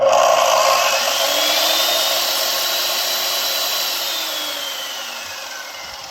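A gas-powered concrete saw with a diamond blade runs unloaded. Its high, whining engine holds steady, then slowly drops in pitch and fades slightly as it winds down. It is loud and close, with no speech.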